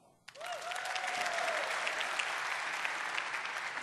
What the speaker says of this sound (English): just a little bit of applause, how many people were PDC 2005?